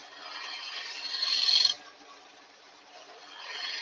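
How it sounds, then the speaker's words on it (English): A wood gouge cuts on a spinning lathe, a steady hissing scrape that swells and then drops off, followed by a quieter stretch before the cutting noise builds again. "Sound this gouge is making."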